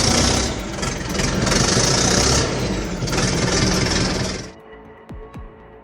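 A heavy tractor engine roars loudly and steadily, swelling a few times, then cuts off abruptly, leaving quieter background with a couple of brief tones.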